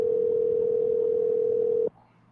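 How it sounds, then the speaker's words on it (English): A steady telephone tone sounds continuously, loud and even, for nearly two seconds while a call is being placed, then cuts off abruptly to quiet. "So let's see if I can get this guy on the phone."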